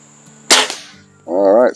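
A single sharp crack from a Benjamin Sterling HR81 air rifle, loud and close against a quiet background, followed by a brief tonal whine afterward.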